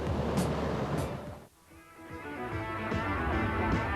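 Strong ocean waves and surf roll in at a 1984 Windsurfing World Cup event, a steady loud broadband wash that briefly dips before the surge builds again, with no voices.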